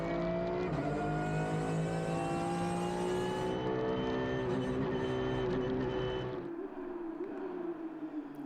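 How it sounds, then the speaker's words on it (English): Belgium Racing Porsche race cars in a Belcar Series race on a slippery track, engines roaring loud and close in one sustained high-revving pass whose pitch drops as the car moves away. "Here we are with Jos Menten in the second of the Belgium Racing Porsches."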